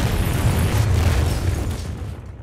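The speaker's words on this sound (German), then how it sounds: "Die Fabrik war explodiert." A factory explosion as a deep, dense boom with a rumbling low-end roar that fills the whole moment loudly, then begins to thin and fade into a dull, lingering reverberation at the end.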